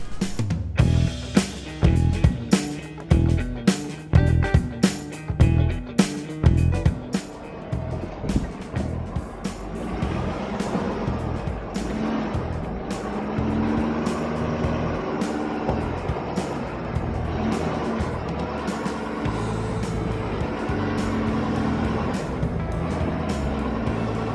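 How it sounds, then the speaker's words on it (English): A four-wheel-drive, high-clearance off-road vehicle crawling over a rock on a mountain trail to Monache Meadow, with loud irregular knocks and thumps early on, then a steady low engine drone that strains and revs as it climbs. "I'm just climbing a rock right now, so I would definitely say four-wheel drive, high clearance for this trail here"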